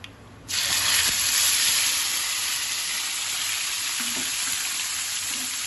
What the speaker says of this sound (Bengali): এইবারে আমি এতে দিয়ে দেব আদা আর কাঁচা লঙ্কা বাটা।